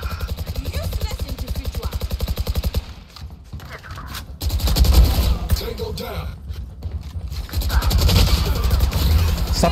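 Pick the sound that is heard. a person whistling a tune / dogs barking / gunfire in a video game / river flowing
gunfire in a video game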